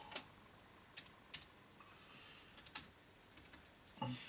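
Sparse, faint keystrokes on a QWERTY computer keyboard, single clicks spaced out over a few seconds in a quiet room, with a slightly louder cluster near the end.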